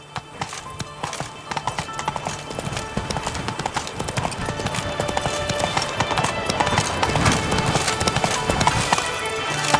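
Roach the horse gallops in The Witcher 3: Wild Hunt with steady, rapid hoofbeats that build in loudness over ambient game sound and a faint voice.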